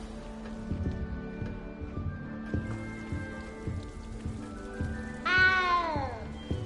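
A cat meows in the Hogwarts Legacy video game, one clear, drawn-out call rising and falling near the end over steady game music and a patter of rain.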